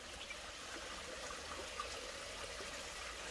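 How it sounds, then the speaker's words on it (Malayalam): Water flows and trickles beside a walkway at a natural wetland reserve in Abu Dhabi, a soft, continuous wash that stays faint and even. "ഈ നടന്നു പോകുന്നതിൻ്റെ വലതുവശത്തായിട്ട് വെള്ളത്തിൻ്റെ ഒച്ചയൊക്കെ ഉണ്ടാ,"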